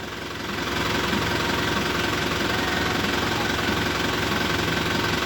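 A car engine idles steadily and fairly loud after a quick rise, a continuous low rumble with a faint knocking pulse, heard alone for several seconds.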